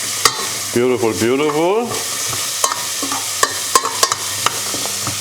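Carrots sauté in a pan for carrot soup. A steady sizzle runs under a short burst of appreciative talk, then spoon clicks and scrapes tap out irregularly as the pieces are stirred.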